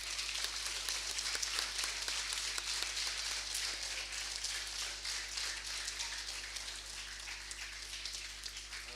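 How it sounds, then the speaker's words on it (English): Applause for junior and senior athletes at a school presentation day, a steady, dense patter of many hands clapping that holds evenly throughout at moderate distance, with no voices over it. "Please give our junior and senior athletes a round of applause"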